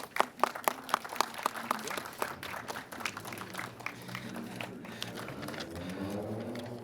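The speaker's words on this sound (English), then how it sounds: "let's just give Bob a round of applause." A room of people clapping at a flag-raising ceremony, starting with sharp distinct claps that build into steady applause, with voices murmuring underneath toward the end.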